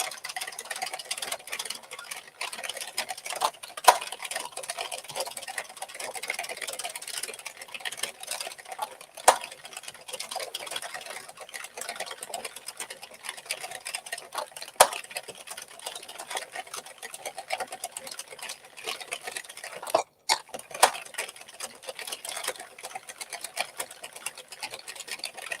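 A hand-cranked knitting machine works steadily on a hat, giving a continuous dense mechanical clatter with a few sharper clicks, moderately loud and close, with no talking.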